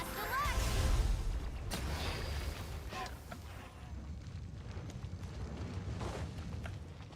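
A booming blast in a video game erupts loudly at the start, then trails into a long rumbling decay with scattered crackles and whooshes.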